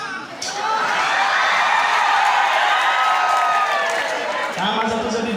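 An audience at a Bihu song show bursts into loud cheering, whoops and clapping that swell and hold for several seconds, with voices shouting in the crowd before it eases off near the end.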